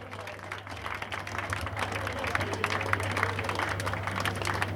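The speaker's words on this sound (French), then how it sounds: "Un applaudissement s'il vous plaît." Audience applause at a rally awards ceremony in Dakar, a steady crowd clapping that builds slightly over several seconds, with a continuous low hum and voices talking over it.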